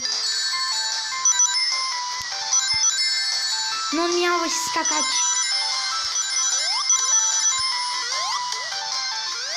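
A melodic phone ringtone plays steadily throughout, repeating its bright tune, while a voice speaks briefly over it midway.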